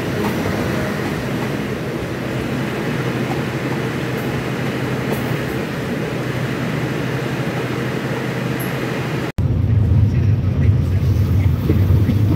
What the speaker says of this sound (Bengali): রাজশাহী অভিমুখী ধূমকেতু এক্সপ্রেস প্রচুর পরিমাণ লেট করে চাটমোহর প্রবেশ করলো।